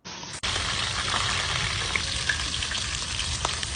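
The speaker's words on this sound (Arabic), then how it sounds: "ونروح نحمر الفراخ بقى" Chicken hits hot country ghee with a sudden burst, then fries in a loud, dense, continuous sizzle with small pops and crackles, close by and without talk.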